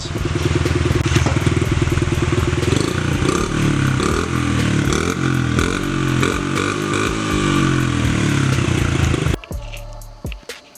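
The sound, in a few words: Honda CRF50F dirt bike engine running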